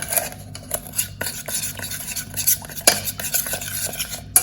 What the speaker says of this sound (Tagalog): Let's just keep on stirring, okay? Keep on mixing